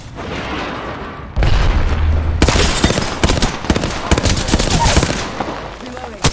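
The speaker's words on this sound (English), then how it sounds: "Throwing thermite grenade." Thermite grenade bursting in the video game Apex Legends: a sudden loud boom followed by crackling fiery bursts and gunfire-like pops for several seconds, close and dense.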